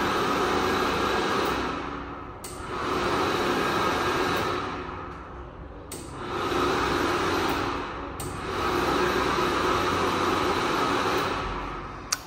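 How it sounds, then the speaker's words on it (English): Automatic hand dryer in a clean washroom, a steady airy roar that swells and dips in several waves as it cycles, moderately loud with no talking. "So we have an automatic hand dryer."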